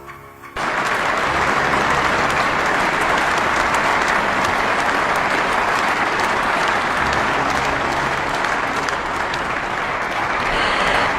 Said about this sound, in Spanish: Una declaración que fue recibida con una fuerte ovación